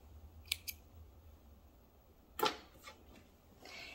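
Scissors snip thread tails on sewn baby bell-bottom pants: two quick close clicks, then a sharper louder snip a couple of seconds later, with faint handling rustle in a quiet room.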